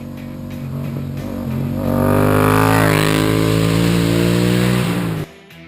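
A car engine drones steadily and rises in a revving surge as it drives along a road shared with joggers, loud and close, then cuts off abruptly near the end.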